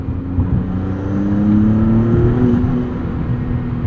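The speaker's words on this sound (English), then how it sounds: "I just wish they made this engine sound a little bit more special" A 2022 Maserati MC20 sports car engine hums steadily with a low, fairly quiet tone, swelling gently as it accelerates before easing back, with no voices.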